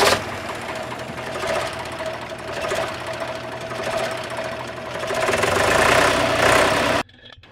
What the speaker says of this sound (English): We have a pump mounted on the boat just for this operation.